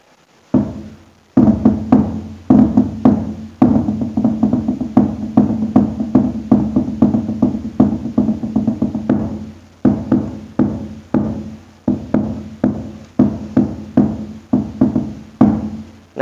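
A hadroh frame drum set plays its bass drum in a steady, driving pattern of deep repeated thumps, close and loud, with quick rolls of strokes and no talking.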